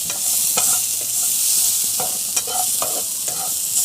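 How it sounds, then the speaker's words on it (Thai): Kimchi stir-fried with garlic and seasoning in a hot pan gives a loud continuous sizzle, with repeated scraping clacks of a spatula tossing the food. "ผัดให้หอมเลยนะครับ"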